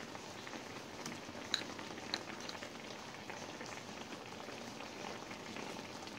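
Milkfish belly simmering in a pot with ginger, onion, salt and pepper, a soft continuous bubbling and popping like light rain, faint and steady with a couple of slightly louder pops early on.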